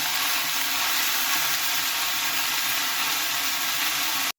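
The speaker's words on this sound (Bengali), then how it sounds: "এগুলো আরও কিছুক্ষণ ভাজতে হবে" Onion stalks sizzling and frying in a pan, a steady loud crackling hiss that continues unbroken for several seconds before cutting off abruptly.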